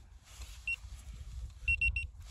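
A few short high beeps from a metal detector, one alone then three in quick succession, over faint low rumble and quiet outdoor background.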